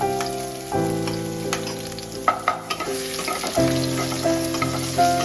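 Chopped garlic frying in goat fat with cloves and a piece of cinnamon, crackling and sizzling over a steady background hum, with a few scraping stirs in the middle.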